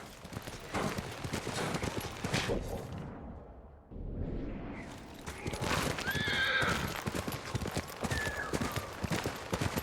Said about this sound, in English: Ride the horse.